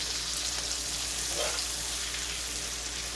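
Shrimp, mushrooms and vegetables, still lightly frozen, sizzle and fry steadily in a flat pan rather than a wok, a dense continuous crackle at close range with no voice over it.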